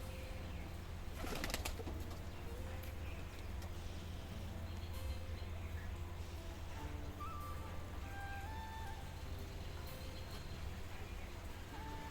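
Pigeons cooing nearby, soft low repeated calls with a brief burst of wing flapping early on, faint against a quiet household background without speech.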